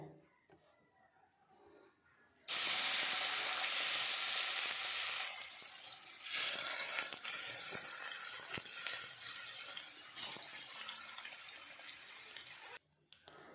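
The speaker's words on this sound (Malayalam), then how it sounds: "അപ്പം ചെറിയ തീയിൽ വേണം നമുക്കത് ഫ്രൈ ചെയ്തെടുക്കാൻ." Squid sizzles steadily in a pan over a low flame while being fried for a Kerala squid roast; a loud, dense crackle starts suddenly and continues without talk until it cuts off near the end.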